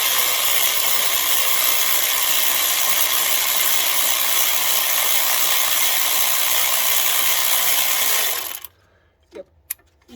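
A clamp is ratcheted onto the flexi pipe of a Mini R56 exhaust: a dense, loud, steady rapid clicking that lasts about eight seconds, then stops abruptly, leaving near silence with a couple of faint knocks.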